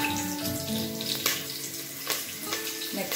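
Green chillies roast in hot oil in a pan while a biryani is cooked, giving a close, steady sizzle with light crackles and pops and no talking.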